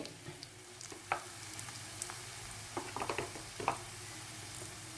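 Chili powder, turmeric and fenugreek are stirred into hot oil for a raw mango pickle, a faint continuous sizzle under a scattering of soft spoon scrapes and taps.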